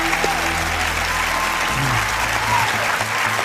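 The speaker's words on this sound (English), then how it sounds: "That one I'll clap." A television studio audience applauds in a short, steady burst of dense clapping, with a low hum and brief murmurs underneath.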